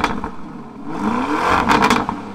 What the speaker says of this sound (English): It also has a lot more snaps and crackles and pops,